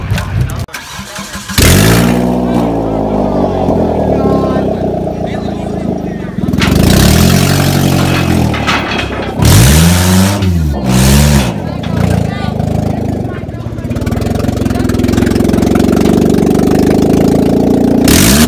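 A car engine revs loudly through its original exhaust up close, with repeated rising and falling revs over a rough idle and people talking throughout.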